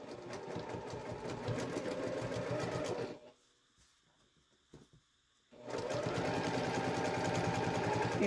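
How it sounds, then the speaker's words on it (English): A sewing machine top-stitches close to the edge of a fabric triangle pouch, running steadily in a dense close whir, pausing for a couple of seconds of near silence with a faint click, then running again. "We're going to top stitch it all the way down."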